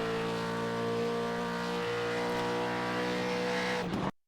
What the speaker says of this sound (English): and then right up through the gears for the back straight